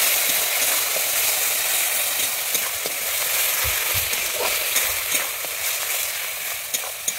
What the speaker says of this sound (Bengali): সেটা আমি দিয়ে দিচ্ছি তেলে। দিয়ে আমি এটাকে ভালোভাবে কষিয়ে নেব।